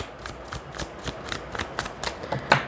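Tarot cards shuffled for a reading, a quick steady run of soft riffling flicks and slaps, close and alone, about ten crisp strokes building to a louder final snap.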